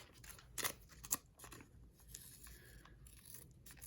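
Scissors trim a craft sticker sheet for a winter cabin kit, giving two sharp close snips amid faint paper rustling in a quiet room.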